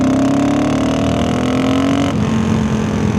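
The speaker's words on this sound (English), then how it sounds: "I'm just gonna rip the gas wide open and see what happens" Lightweight adventure motorcycle with a carburetted engine at full throttle in 4th gear from low RPM, a loud close engine drone rising steadily in pitch, then a brief dip and steady roar.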